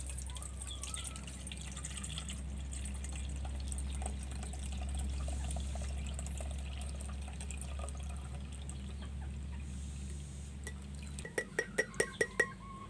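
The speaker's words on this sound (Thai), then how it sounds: "จากนั้นเราก็จะมากรองเอาเฉพาะน้ำกันเลยค่ะเราก็จะกรองลงไปแบบนี้เลยค่ะ" Homemade banana vinegar is filtered into a container with a soft, steady trickle over a low hum, followed by a quick run of glassy clinks at the end.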